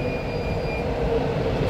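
A modernized Cobrasma São Paulo Metro train rumbles past close by, steady wheel noise with faint high squeals from the rails, at República station on Line 3.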